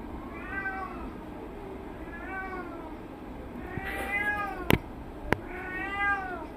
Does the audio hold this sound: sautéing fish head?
no